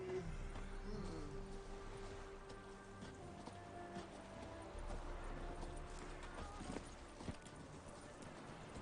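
Roach the horse gallops in The Witcher 3, a steady, close clip-clop of hooves running throughout with soft game ambience and faint patter like rain behind it.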